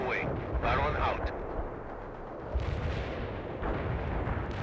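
Artillery fire in the World in Conflict game, heard as deep rumbling booms and blasts rolling under continuous battle noise, heavy and sustained, with a short quieter gap between bursts.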